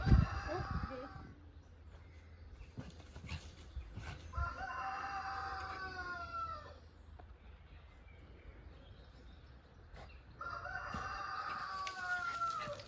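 A cockerel crows several times, loud and close, with long rising calls spaced across the clip amid farmyard clucking and some background noise in the English countryside.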